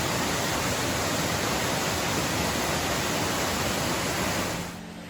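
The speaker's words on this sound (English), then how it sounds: "this is Lick Log Waterfall." Lick Log Waterfall on the Foothills Trail pours as a steady, dense, close rushing roar of falling water that holds constant before fading slightly at the end.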